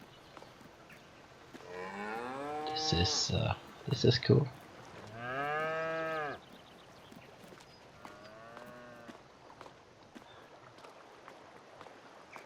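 Cows in a barn in the farming video game Farming Simulator 22 let out several loud, drawn-out moos close by, one after another, with a brief spoken remark in between.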